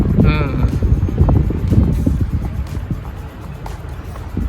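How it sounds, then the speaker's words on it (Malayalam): Steady wind buffets the microphone in low rumbling gusts at Dubai Design District, with water and boat noise mixed in and a few faint voices in the background. "ഇത് നല്ല കാറ്റുണ്ട് ഇവിടെ"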